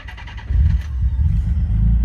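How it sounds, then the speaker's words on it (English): A manual-transmission car's engine turns over and catches, a loud low rumble building and then settling into a steady nearby idle, with a brief higher starter whine at the start. "Now you started the car"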